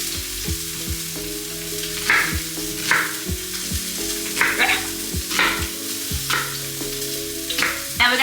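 Thick-sliced onions fry in a pan with a steady sizzle, broken by repeated scraping and stirring strokes and soft knocks of a utensil against the pan, close and fairly loud, with no talking.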